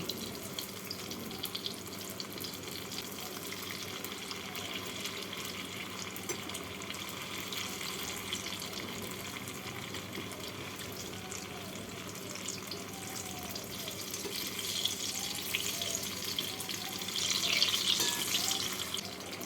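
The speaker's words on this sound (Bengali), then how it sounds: "এবার কিছুক্ষণ তেলের মধ্যে রেখে দেব" Palm rosapuli dumplings frying in oil, a soft continuous bubbling sizzle at moderate level that swells slightly toward the end, with no talking.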